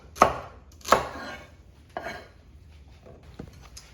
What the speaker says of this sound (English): go with the celery. Just 2 ribs will do. In no special way, just rough cut it.